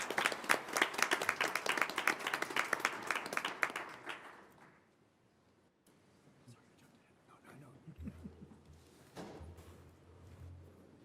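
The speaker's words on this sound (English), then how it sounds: "Round of applause." Applause at a Board of Education meeting, many hands clapping in a dense, fairly close burst for about four seconds before fading out, leaving quiet room noise and a faint voice.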